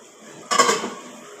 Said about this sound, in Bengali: আবার কিছু সময়ের জন্য ঢাকনা দিয়ে ঢেকে রাখবো